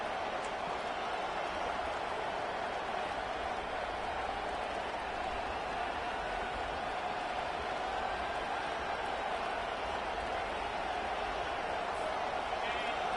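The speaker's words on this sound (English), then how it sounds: "Listen to this crowd just shaking the girders of this place, trying to help their defense." A large college football stadium crowd roars in a constant, loud wash of noise, with a voice talking over it.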